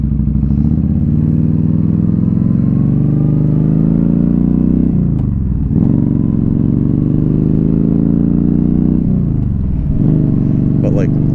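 A 2015 Yamaha V Star 1300 Deluxe SE cruiser motorcycle with an aftermarket exhaust rumbles steadily at close range, its deep exhaust note swelling through brief revs around the five- and nine-second marks, with a person talking over it.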